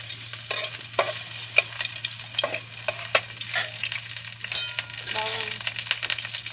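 Garlic frying in a kawa pan, a faint sizzle under scattered scraping and stirring clicks, with a steady low hum in the background.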